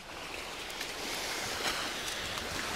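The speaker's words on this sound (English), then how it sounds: "it sounded like water washing up on a beach" Water washes up on the shore of Rutland Water in a broad, steady rushing wash mixed with breezy wind noise, fairly faint and continuous with no voices.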